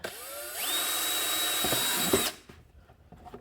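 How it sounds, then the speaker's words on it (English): A power drill whines steadily at high pitch for about two seconds, then spins down and stops, leaving quiet handling sounds. "I'm gonna go ahead and drill those first"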